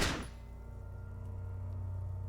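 A gun is fired at a corpse in the video game Disco Elysium: one sharp, loud blast at the very start, then a low rumbling tail that lingers and rings on.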